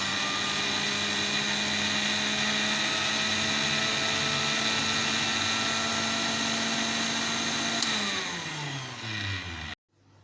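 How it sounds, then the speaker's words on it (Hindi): An electric kitchen grinder whirs steadily while grinding spice ingredients for raita, a loud high-pitched motor drone that winds down and stops near the end. "अब हम इसको पीस लेंगे।"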